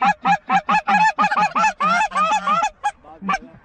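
Geese on a hunt honking in a rapid series of loud, close calls, a dozen or so sharp nasal honks in quick rhythm, thinning to a few scattered calls at the end.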